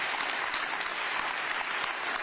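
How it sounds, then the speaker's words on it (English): Steady audience applause at a book event about gutsy women, a continuous even wash of many hands clapping at moderate level with no talk over it. "there's a clap."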